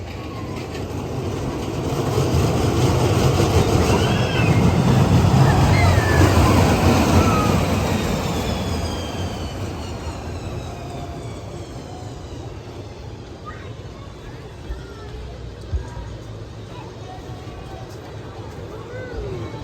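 The Rudy Coaster roller coaster at Santa's Land rumbles and clatters along its track, swelling loud in the first half before easing to a steadier rattling roar, with voices and squeals from riders mixed in.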